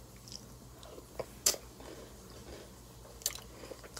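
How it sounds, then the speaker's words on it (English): A few crisp bites of breakfast cereal in milk, two sharp crunches up close with softer chewing between them and no talk. "Got that perfect crunch."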